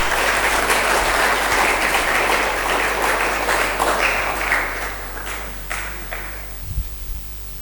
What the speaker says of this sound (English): with a big round of applause, we would welcome sir.